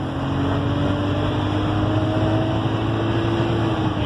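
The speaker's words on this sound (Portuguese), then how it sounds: "escute o ronco do motor desse carro agora. Eu vou dar uma aceleradinha" A BMW X6 with the N54 twin-turbo direct-injection engine holds a steady, droning hum with a slowly rising then easing tone, heard close and continuous without sharp revs.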